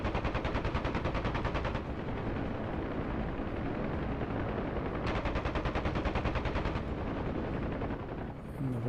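A left-side door gunner's machine gun in DCS World fires long sustained bursts with rapid, even repeats, loud and close over a steady helicopter rotor and engine drone.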